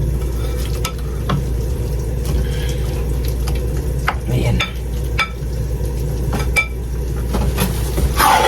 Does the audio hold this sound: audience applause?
no